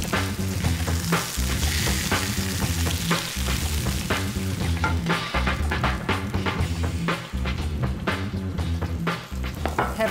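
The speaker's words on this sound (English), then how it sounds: "This salmon will need about 4 minutes, 1 minute on the first side and then 3 minutes on the other side just to get lovely and golden and seared" Salmon fillets searing in a hot pan, a loud continuous sizzle and spatter close up, with rhythmic clicks and knocks running through it and no talking.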